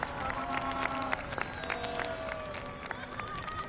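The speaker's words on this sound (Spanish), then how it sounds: "Un aplauso para Jaime Andrés." A crowd applauds and cheers for Jaime Andrés at a Colombian political event, dense rapid clapping mixed with crowd noise and a sustained tone running underneath, fairly close and loud throughout.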